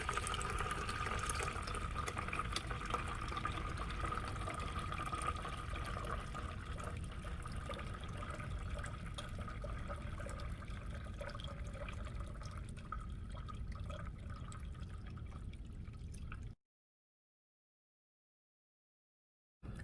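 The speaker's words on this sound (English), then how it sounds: "So I'm going to go ahead and turn the spigot on, and you can just observe." Water runs steadily out of a bucket's spigot in a continuous, moderately near splash and trickle that holds fairly even before cutting off abruptly near the end.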